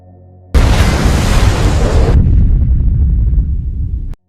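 A bomb detonates at a nuclear station in a film, destroying a whole canyon: a sudden massive blast that roars loudly for about two seconds, then a heavy rumbling that fades out before cutting off.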